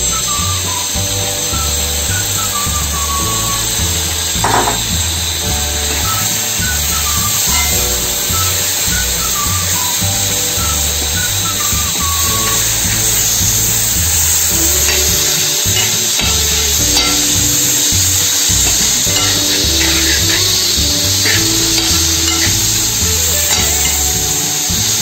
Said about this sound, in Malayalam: നാരങ്ങ ഇടുകയാണ്.